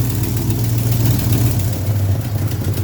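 A Mopar 400 cubic inch V8 idles steadily before a carburetor tune-up, a low, even rumble with a slight lope, close and alone.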